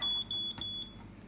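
A moisture analyzer sounds three quick, high-pitched electronic completion beeps in a row, faint and close, with a quiet background.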